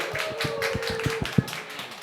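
Clapping for Severance Hospital at an autism talk event comes as a thin, regular run of sharp claps, a few hands beating a quick even rhythm for about two seconds.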